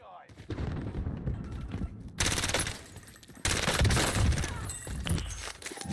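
Rapid bursts of CX9 submachine gun fire in a video game, with dense crackling shots in several loud volleys mixed with game effects, and voices talking over it.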